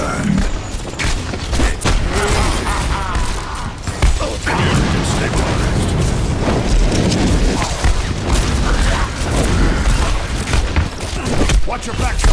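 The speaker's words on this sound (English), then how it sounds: "The gunslinger's shot found its mark, and the Reaper was destroyed." Gunfire and mechanical clanks from the Overwatch video game, with dense, loud bursts of shots and booms running throughout, layered under in-game voices talking.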